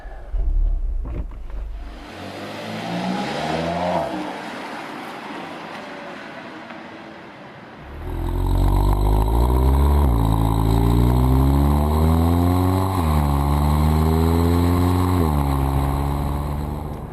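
A 2014 Audi TT quattro drives on the road. Engine and road noise start quietly, then rise into a loud, steady drone with climbing engine tones as the car accelerates through the gears.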